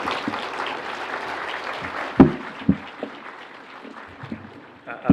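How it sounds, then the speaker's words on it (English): An audience at a Kenyan Open University charter ceremony gives the President a standing clap of honour as he steps to the podium: dense, sustained applause with a few louder claps standing out near the end. "give the President a clap of honor as he steps onto the podium"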